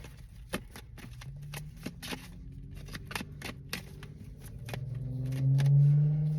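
Tarot cards being shuffled by hand, a rapid run of crisp close flicks and riffles over a faint background hum that swells toward the end.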